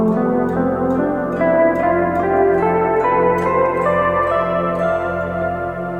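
A musical passage in the F Lydian mode, with sustained harmonic tones and a steady low drone, played continuously at an even, fairly loud level with no voices.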